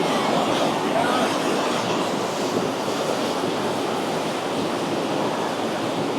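Broad, steady roar of rushing water, loud and continuous, like a strong torrent flowing close by, with no voices.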